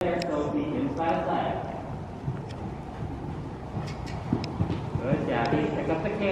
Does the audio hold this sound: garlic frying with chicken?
no